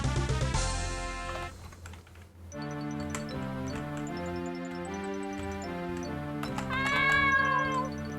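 A cat meows in a JoJo's Bizarre Adventure game scene, with drawn-out, tonal cries over sustained background music and a rising, bending meow near the end.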